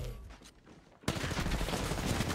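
Dense automatic gunfire erupts suddenly in a video game match after a quieter lead-in, loud and continuous for over a second, with a faint voice briefly heard before it.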